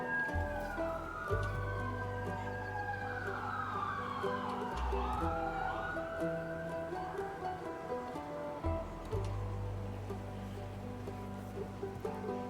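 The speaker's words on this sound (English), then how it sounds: "There were sirens that whole ad break." Emergency sirens wailing and sweeping up and down at a distance, rising and falling over a low engine-like drone that starts and stops, heard during a break in a streamed game session.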